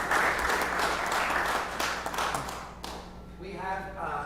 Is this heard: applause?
yes